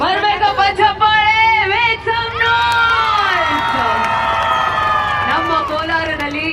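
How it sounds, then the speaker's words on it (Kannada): A crowd at a Ugadi festival event in Kolar cheering and shouting loudly, sustained excited whoops and yells from many people close by. "ಬರ್ಬೇಕಪ್ಪ ಚಪ್ಪಾಳೆ"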